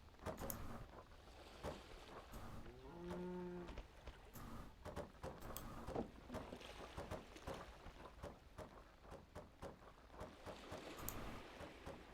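A single cow moos in the video game Kubifaktorium, a clear tonal low call lasting about a second amid a busy bed of clicking game sounds and effects, with no talk.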